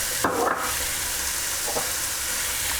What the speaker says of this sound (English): we're just going to fry this onion off for maybe 2 or 3 minutes